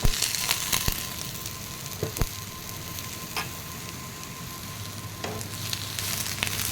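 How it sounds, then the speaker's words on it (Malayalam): Chopped okra is sautéed in a pan for a lady's finger stew. A continuous oily sizzle is broken by sharp clicks and scrapes of the stirring spoon, with no voices. "അരിഞ്ഞു വെച്ചിരിക്കുന്ന വെണ്ടയ്ക്ക അതിലേക്കിട്ട് നന്നായിട്ട് വഴറ്റിയെടുക്കാം"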